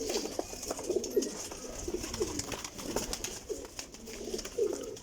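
Several pigeons in a pigeon loft coo repeatedly in low, throaty rolling calls, overlapping at a moderate distance over a steady background hiss, with no speech.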